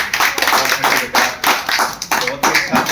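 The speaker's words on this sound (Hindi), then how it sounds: "इसके लिए जोरदार तालियां दें हम।" Audience at a community event in India clapping together, a dense sustained patter of many hands with rhythmic surges, loud and close throughout.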